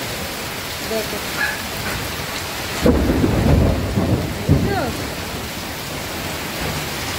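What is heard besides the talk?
heavy torrential rain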